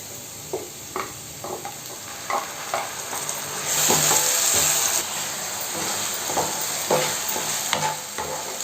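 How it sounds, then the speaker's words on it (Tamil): Ground coriander paste sautéing in a pan for coriander rice, a loud steady sizzle and hiss broken by repeated spatula scrapes, with a brief surge of steam partway through. "இந்த கொத்தமல்லி தழை பார்த்திங்கன்னா நல்லா பச்சை வாசம் போகிற வரைக்கும் கொஞ்சம் நேரம் நல்லா வதங்கட்டும்"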